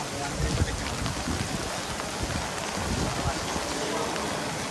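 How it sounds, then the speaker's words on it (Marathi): Heavy rain pours steadily on an open muddy ground during a Govinda team's practice session in Mazgaon, a dense continuous hiss with soft low rumbles, close and unbroken for the whole stretch. "बघा पाऊस पडतोय"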